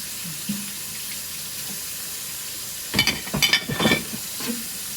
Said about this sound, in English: Just washing some of these dishes.